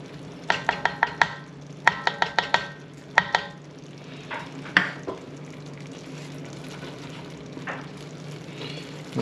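Crawfish étouffée is stirred in a pan, with rapid bursts of spoon scraping and clinking against metal. Softer wet stirring follows over a sizzling background.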